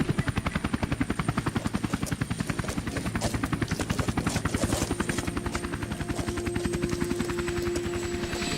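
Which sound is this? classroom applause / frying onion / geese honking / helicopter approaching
helicopter approaching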